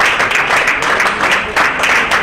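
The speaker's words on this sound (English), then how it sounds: "their clapping is wonderful" Roughly 30 to 40 people at an Honor Flight welcome gathering clap in a steady, lively patter with slightly pulsing bursts, close and continuous throughout.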